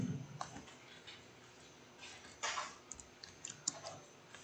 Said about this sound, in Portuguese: Então vou digitar aqui return